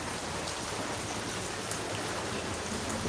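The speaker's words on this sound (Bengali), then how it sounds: "ভরপুর বৃষ্টি হইতেছে ভরপুর বৃষ্টি" Heavy rain pours over a flooded mosque yard in a steady, broadband wash of drumming drops that never lets up, with no speech.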